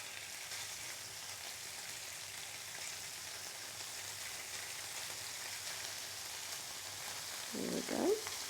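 Crumbled firm tofu sizzles in a pan over medium-high heat, a steady moderate frying hiss throughout with a brief louder burst near the end, no talking.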